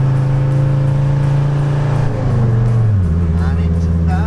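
A car engine labours up a steep hill in the Scottish Highlands, droning loudly and steadily with a strong low hum. The pitch dips and shifts partway through, as if the car is changing gear, and the engine stays close and continuous throughout.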